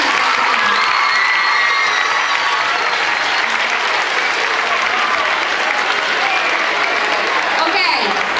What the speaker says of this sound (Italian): facciamo un ultimo applauso a tutti e tre